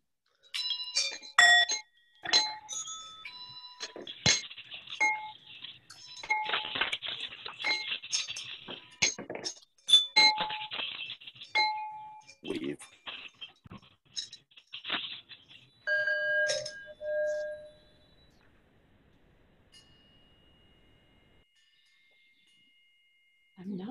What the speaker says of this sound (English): if you have brought a bell, you may please unmute yourself now, and we will allow the bells to draw us into a time of deeper